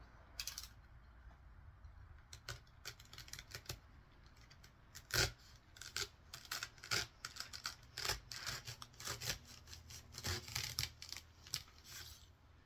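Filter material being cut to open a hole, quiet crisp snipping and rustling cuts arriving in irregular bursts, with one sharper snip standing out.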